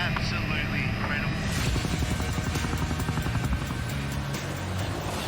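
A helicopter whirs nearby in a Himalayan mountain setting just after landing, its steady rotor thump continuing while someone talks over it.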